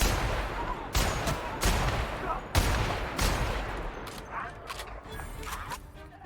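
Gunfire in the video game The Outer Worlds: several loud, sharp shots in an irregular rapid series over a dense rumbling background, the bursts thinning out toward the end.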